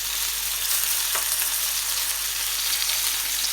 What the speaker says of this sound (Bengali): এভাবে একটু হাত দিয়ে ধরে ধরে এই জিনিসটা ফ্রাই করে নিতে হবে